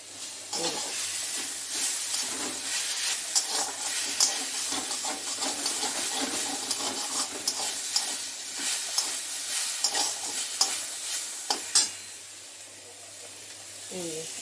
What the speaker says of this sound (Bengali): সেই পাট শাক রয়েছে অল্প একটু, সেটাই যে গরম করছি।